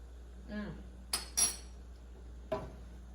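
A metal tasting spoon clinks against a pan while shrimp fried rice cooks, giving three or four sharp, close taps spaced about a second apart over faint kitchen background.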